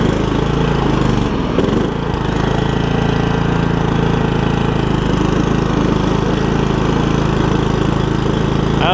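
A Troy Bilt Super Bronco lawn tractor with a Kohler Courage engine and cracked block runs steadily close by, a loud continuous droning rumble with a brief dip and a slight roughness early on.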